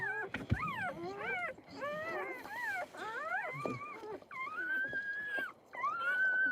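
A newborn puppy whimpers in a rapid series of high, wavering whines and squeals, close by, rising and falling with short pauses between cries.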